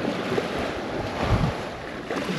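Steady wash of ocean waves breaking against a rock shelf full of little holes, a constant rushing roar with wind buffeting the microphone and no voices.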